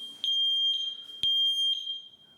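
A Sensereo MS-1 interlinked smoke alarm in a home utility room beeps in sharp, piercing, evenly spaced electronic pulses, with a faint echo of another unit between them.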